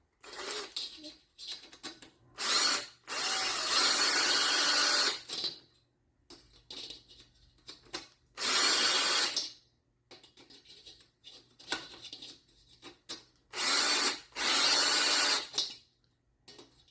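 A cordless drill running in short bursts while tensioning spokes on a front disc wheel with a deep rim, driving the nipples in several loud whirring runs of a second or two each, separated by quiet gaps and small clicks.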